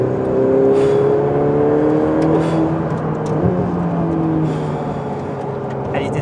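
Ferrari 488 Pista sports car on a test drive, its engine revving and rising in pitch across several climbing sweeps, loud and close, while someone speaks over it.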